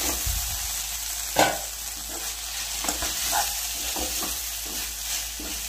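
Nepali sponge gourd curry sizzles steadily in a pan while a spoon scrapes and stirs it in a few distinct strokes, with one sharper clatter near the start, close up and with no talking.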